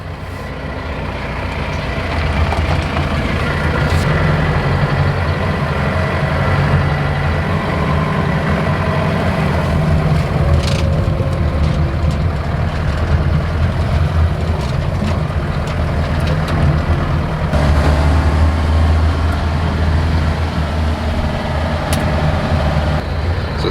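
A Mahindra Roxor diesel engine idles steadily for a long stretch, a constant low rumble with a few faint clicks and rattles over it.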